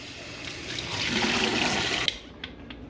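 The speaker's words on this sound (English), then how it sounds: "Now we're gonna rinse our fish." Fish fillets are rinsed under running tap water to wash off excess vinegar: a close, steady splash and gush for about two seconds, then the flow stops, leaving a few drips.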